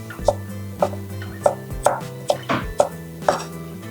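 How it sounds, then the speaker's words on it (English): A knife julienning food in thin strips on a cutting board, a steady series of about nine crisp, close chops with sharp knocks on the board and no voices. "So I'm just going to start with some very thin planks here. And then I'll julienne it lengthwise."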